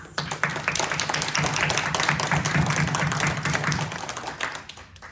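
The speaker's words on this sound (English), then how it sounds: "So I think we should applaud them for this." An audience at a League of Women Voters candidate event in the Manhasset, New York library claps for the candidates, a steady roomful of applause that swells quickly, holds, and tapers off near the end.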